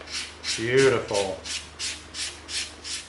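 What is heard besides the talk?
sanding stick rubbing foam edge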